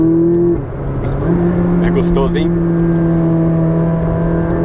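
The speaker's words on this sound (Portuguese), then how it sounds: "mostrar para vocês um pouquinho mais do ronco deste V8" A McLaren 570S V8 revs loudly and close by, its steady idling drone rising through throttle blips with a brief gear-like drop, while someone talks over it.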